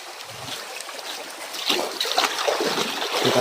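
Flowing river current in a video game, a steady broadband wash of trickling, rushing water that swells slightly louder midway and continues alone without talk.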